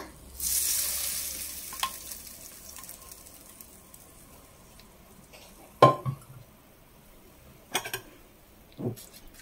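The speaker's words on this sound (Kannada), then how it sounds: "ಈಗ ಇದಕ್ಕೆ ನಾವು ಮಾಡ್ಕೊಂಡಿರೋ ಒಗ್ಗರಣೆ ಹಾಕೊಳ್ಳೋಣ" Hot oil tempering is poured onto mango tokku in a bowl, giving a brief sizzling hiss at first that quickly fades, followed by a few sharp clinks of a spoon against the bowl.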